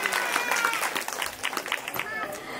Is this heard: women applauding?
yes